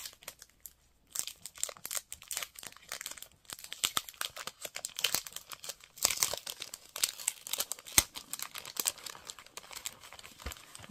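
Paper craft butterflies crinkle and rustle close by in irregular bursts, soft crackling handling sounds with brief pauses, no voices.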